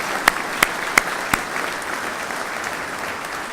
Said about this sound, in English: let's give the whole division staff a big round of applause